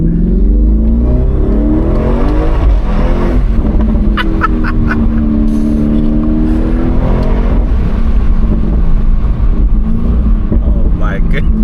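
A 2017 Audi RS6 C7 engine revs and accelerates hard, a loud continuous roar that climbs and falls in pitch close by, with a person talking over parts of it.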